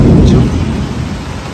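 A thunderstorm with a loud, close rumble of thunder over heavy rain, fading slightly over a short stretch.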